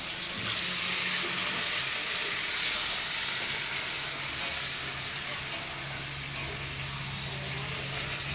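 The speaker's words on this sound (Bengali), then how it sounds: "পেঁয়াজটা একটু লাল লাল করে ভেজে নেব" Onions frying in a pan for a spicy red chicken dish, a steady broadband sizzle that holds evenly throughout, close and fairly loud, with a low hum underneath and no talking.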